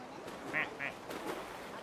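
Plastic duck quacking in the video game Placid Plastic Duck Simulator, two short nasal quacks close together, faint and partly under a person talking.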